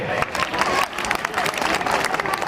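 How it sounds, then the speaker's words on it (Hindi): An audience at a talk on love applauds in a brief, close, crackling burst of many hands that stays steady throughout. "तालियां बजती हैं इस पे।"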